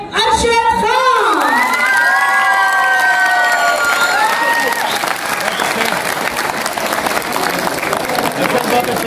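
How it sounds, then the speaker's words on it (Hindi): A theatre audience at the Rawalpindi Arts Council breaks into loud applause, cheering and shouts of excitement, with whoops and voices rising over the clapping before it settles into a sustained roar. "आपकी तालियां हैं"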